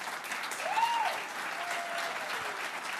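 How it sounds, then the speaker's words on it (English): An audience at a local awards ceremony applauds in a steady, even burst, while a faint voice calls out briefly over the clapping. "That applause is for you."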